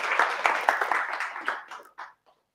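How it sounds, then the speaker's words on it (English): Audience applause at a livestreamed startup pitch event, a burst of clapping from a modest crowd that thins into a few scattered claps and stops. "Applause, please."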